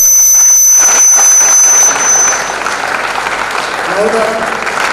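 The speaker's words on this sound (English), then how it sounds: "I request a loud round of applause from all of us as a thanksgiving to" A school celebration audience at a silver jubilee claps and cheers loudly, with a shrill squeal and a roar of crowd noise up front that eases into softer, sustained applause with some voices.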